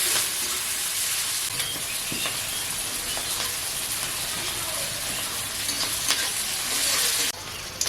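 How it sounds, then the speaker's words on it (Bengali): Onions fry in oil with bay leaf and cumin in a village kitchen, making a continuous close sizzle broken by stirring scrapes. The sound drops off sharply near the end. "পেঁয়াজ ভাজা হয়ে গেছে"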